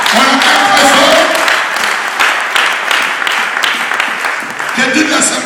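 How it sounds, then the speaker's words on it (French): A church congregation applauds loudly in a steady wash of clapping that lasts throughout, with voices mixed in. "On acclame très fort."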